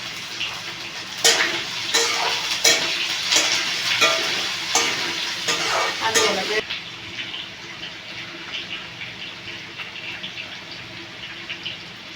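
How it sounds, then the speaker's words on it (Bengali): Chopped onion drops into hot oil already fried with panch phoron and dried red chillies, a loud broadband sizzle with stirring scrapes for several seconds that eases into a steadier, quieter frying hiss. "আমি দিয়ে দেবো পেঁয়াজ কুচিয়ে রাখা পেঁয়াজটা দেবো"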